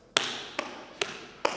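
Four crisp taps on a hard floor, evenly spaced about every half second, close and fairly loud against a quiet background.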